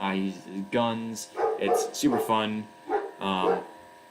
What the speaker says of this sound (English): Sorry for the dog in the background, by the way.